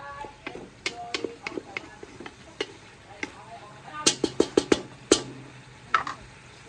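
Meat and aromatics stir-fried in oil in a home kitchen, with quiet sizzling under a run of sharp clicks and taps from a utensil against the pan, clustered more densely toward the end.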